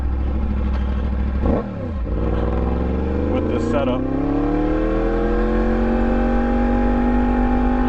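A Yamaha MT-10 motorcycle fitted with an Austin Racing exhaust revs hard up close, with a sharp blip and then a long rising engine howl, as someone speaks briefly at the start.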